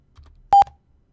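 A computer database entry system gives a single short, clean electronic beep, sharp and close against near silence.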